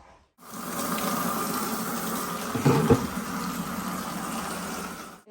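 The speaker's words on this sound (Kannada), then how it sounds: "ನೀರು ಕೂಡ ನಾನು ಮತ್ತೆ ಬಿಟ್ಟಿದ್ದೀನಿ" Water runs steadily from a tap for several seconds, a constant splashing hiss that briefly grows louder midway, with no talking.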